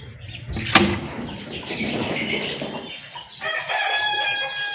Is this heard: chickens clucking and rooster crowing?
yes